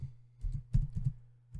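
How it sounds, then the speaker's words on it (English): A few soft, quick keystrokes on a computer keyboard at close range, a short burst of clicks and then a pause, fairly quiet with no voices. "all you want to do is simply type"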